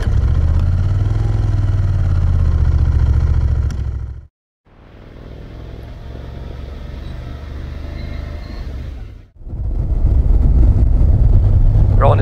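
A motorcycle on a road trip through the Picos de Europa in Spain pulls away: a steady engine drone runs under speech, drops out briefly, then returns as the bike rides off, loud and close.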